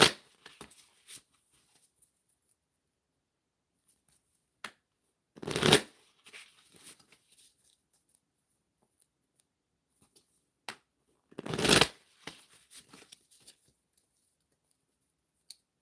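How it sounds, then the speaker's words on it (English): Cards being shuffled nearby: two distinct riffle bursts a few seconds apart, surrounded by soft taps, clicks and handling sounds in a quiet room. "Y'all can hear me shuffling in the back"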